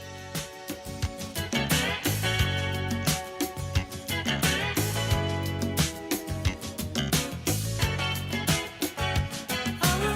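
A soft rock song plays from a recording, with steady full-band instrumentation and a consistent beat throughout, loud and continuous.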